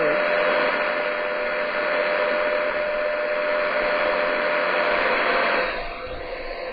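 A DAK DMR-3000 radio tuned through an external antenna gives a loud, steady rush of broadband static with a faint held tone, dropping slightly in level near the end.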